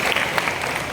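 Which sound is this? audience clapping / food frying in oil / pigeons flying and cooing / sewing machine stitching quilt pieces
audience clapping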